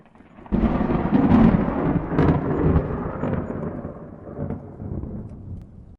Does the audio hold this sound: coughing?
no